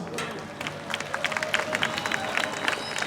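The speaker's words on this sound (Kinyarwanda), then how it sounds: "Amashyi menshi kuri president wacu" A crowd claps and cheers for President Evariste at a live performance, with dense, uneven applause and scattered sharp claps over a steady murmur of voices.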